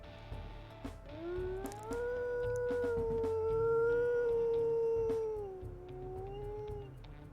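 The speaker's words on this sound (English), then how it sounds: "It really does sound like that howl belongs to the same wolf." A single long wolf howl from the video game WolfQuest rises and holds a wavering pitch, then slowly tapers, with soft clicks and a low hum underneath.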